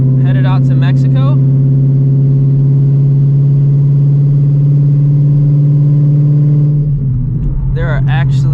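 A 950 hp Shelby GT350 engine gives a loud, steady, droning roar at a nearly constant pitch, with brief talking near the start and again at the end.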